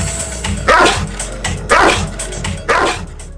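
A Cane Corso barks three times, loud, deep and close, in evenly spaced single woofs, with no talking over them.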